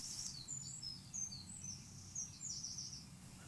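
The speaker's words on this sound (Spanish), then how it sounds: "los pájaros están exaltados hoy" Birds singing outdoors give scattered high chirps and short trills, faint and fairly distant, over a low steady background hum.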